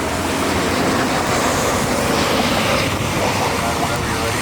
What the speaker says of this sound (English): Frontier 3915 inbound from Orlando as the rain is pouring